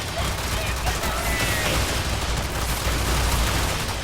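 Dense, continuous gunfire from many characters shooting at once in Warframe, a loud rattling barrage that never lets up across the whole stretch.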